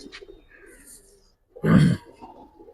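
A Giribaz pigeon in a loft gives a single low, throaty coo burst near the mic, preceded by faint rustling and soft background noise.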